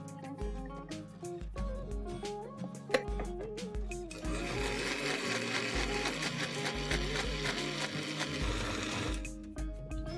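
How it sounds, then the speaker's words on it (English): A kitchen mixer-grinder blends coconut, cumin seeds and garlic into a fine masala paste, its motor whirring loudly in steady bursts with brief pauses, then running continuously and rougher for several seconds before stopping. "And now let's grind this to a nice fine paste."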